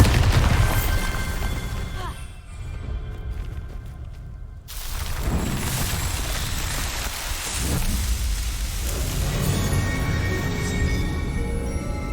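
Bombarda blasting spell cast in Hogwarts Legacy: a steady rumbling, crackling roar of debris and rubble fills most of the stretch, breaking off briefly before a second heavy burst and continued rolling noise.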